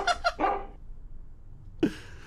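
A big dog barks in the video game Giraffe Town, a quick run of three deep barks, a pause, then one more loud bark, close and clear.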